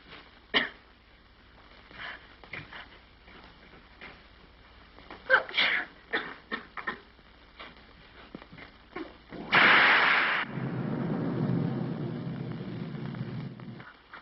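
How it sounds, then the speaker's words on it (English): Thunder crashes during a storm in a 1931 comedy: a loud, broad burst strikes after a few short voice-like sounds, then settles into a sustained low rumble that runs steadily to the end. "I'm so afraid of thunder and lightning."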